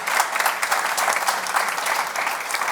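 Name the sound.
audience applause at a conference panel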